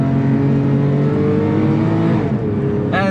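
A 3.8-litre flat-six boxer engine mounted at the rear of a Porsche 911 Carrera 997.2 hums and revs steadily, then drops and climbs again sharply near the end, loud and close with no talk.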